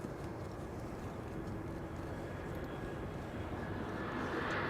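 Lufthansa airliner arriving at Amsterdam Schiphol Airport on a sunny day: a steady, fairly distant engine roar and rumble that holds level and swells slightly toward the end, with no voices.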